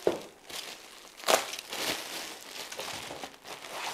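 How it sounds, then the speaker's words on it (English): Plastic bag being pulled off Christmas village porcelain figures during unpacking, with irregular crinkling and rustling, a sharper tear-like burst near the middle, close up and moderately quiet. "Let's remove some of the plastic bag."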